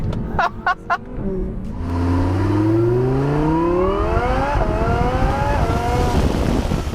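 An Audi R8 engine accelerates hard on an open road, its note climbing steadily through several rising sweeps with a brief dip at a gear change, loud and close, after a few sharp clicks at the start.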